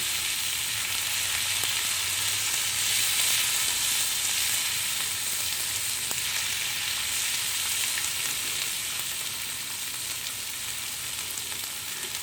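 Seasoned asparagus spears searing in a hot pan, a steady, even sizzle that holds at the same moderate level the whole time, with no voices.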